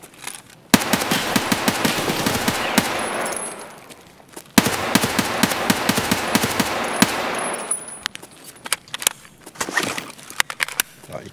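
Rapid automatic gunfire in Escape From Tarkov, loud and close, in two long sustained bursts separated by a brief gap, then trailing off into scattered single shots.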